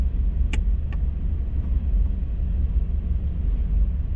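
A lifted eighth-generation Honda Civic drives at night, giving a steady, loud low road rumble and engine drone from inside the car, with a couple of faint brief clicks early on.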